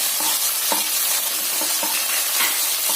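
Crushed ginger and garlic fry in a pan with a constant bright sizzle, punctuated by repeated light stirring scrapes at an uneven rhythm, close and steady throughout.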